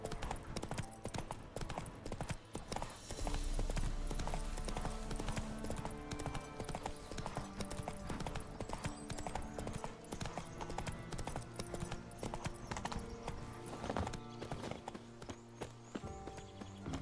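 Horse hooves clop in a rapid, steady galloping rhythm in The Witcher 3, loud and continuous, with game music and ambient effects underneath.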